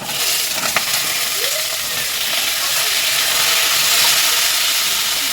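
Vegetables, including potato, aubergine and spinach, hit a hot pan and set off a loud, steady hiss of sizzling that continues without a break.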